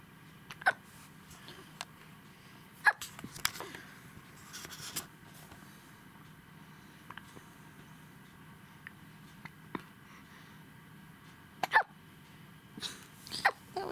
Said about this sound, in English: It was a big hiccup.